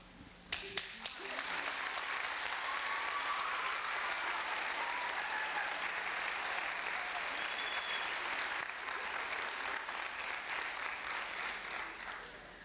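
A school audience at a 1988 SADD event bursts into sustained applause, opening with a few sharp claps that swell into a dense, even roar of clapping lasting over ten seconds before tapering slightly.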